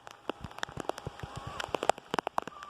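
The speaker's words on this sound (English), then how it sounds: "Absolutely shucking it down with heavy rain in West Byfleet right this minute." Heavy rain in West Byfleet, UK, patters densely with irregular, close, loud drops striking a nearby surface, alone with no voices.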